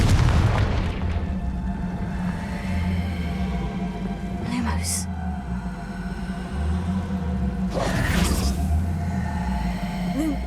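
Confringo blasting spells explode in the Hogwarts Legacy video game, two sharp booming bursts a few seconds apart over a steady low game rumble and music bed.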